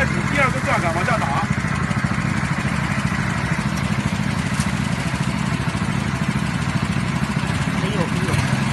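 A water well drilling rig's engine runs together with its water pump, a steady, loud mechanical drone that holds throughout, with a voice briefly heard near the start.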